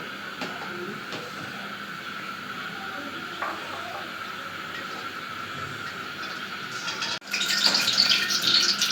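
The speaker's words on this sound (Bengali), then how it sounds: "কড়াইটা গরম হয়ে গেছে কড়াইতে দিয়ে দিব" Soybean oil goes into a hot wok, first a steady hiss under a faint background hum, then a sudden louder rushing sizzle near the end.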